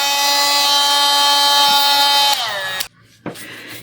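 A Dremel rotary tool runs at a steady high-pitched whine, close and loud, then winds down and cuts off, followed by a brief restart and a short burst.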